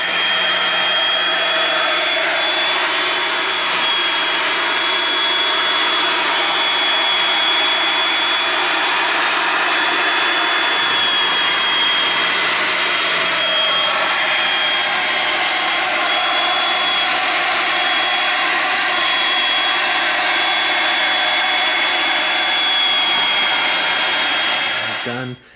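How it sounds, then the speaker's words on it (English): A Bissell SpotClean portable carpet cleaner's loud, steady vacuum motor whines continuously with a high pitched tone, running without pause close to the listener while vacuuming a car seat. "And so now I can ready to vacuum that one off as well."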